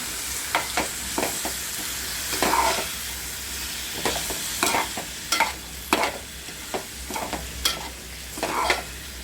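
Val beans and potatoes tossed into roasted masala in a hot pan, giving a steady sizzle broken by repeated scraping stirs of a spoon, close and clear with no voices.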